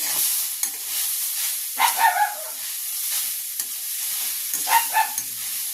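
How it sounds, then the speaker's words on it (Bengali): Radish paratha filling, seasoned with salt, chilli powder and sugar, stirred and fried in a pan: a soft steady sizzle with occasional louder scraping stirs near the second and fifth seconds, no talk. "আবারও ভালো করে নাড়াচাড়া করে ভেজে নেব"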